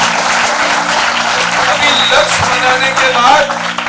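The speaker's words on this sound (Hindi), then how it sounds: "उधर ताली उन सबके लिए जिनके लक्ष्य" Audience applause at a marathon motivational seminar in Bhopal, a steady dense wash of clapping filling the room for several seconds, with speech faintly mixed underneath.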